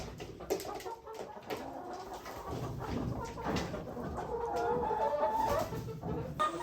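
Backyard homestead hens murmur and coo contentedly, soft overlapping clucks and low trills close by, with a few sharper calls among them.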